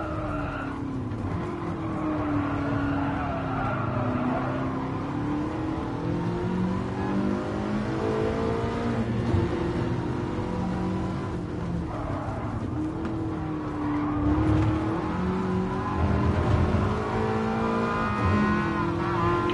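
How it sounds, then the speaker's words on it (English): A Ferrari racing in Gran Turismo Sport, its engine revving loud and steady with rising and falling pitch through gear changes, alongside tire squeal and skidding, with no voices. "Oh, that Ferrari sounds amazing."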